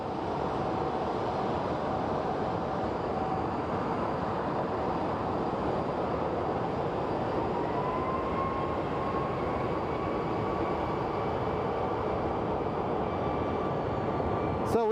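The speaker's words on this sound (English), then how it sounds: "on final, we have Southwest 781 coming in from San Jose" Southwest Airlines flight 781 from San Jose comes in on final approach at Phoenix Sky Harbor Airport, a continuous broadband jet roar holding steady for the whole stretch, with a faint rising engine whine emerging partway through.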